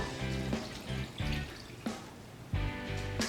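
Pickle juice and water poured from a measuring cup over raw chicken, several short splashy pours and trickles in quick bursts, close and fairly quiet.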